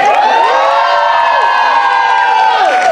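Audience cheering loudly at a student association event, a sustained wall of whoops and shouts from a crowd throughout, near and dense.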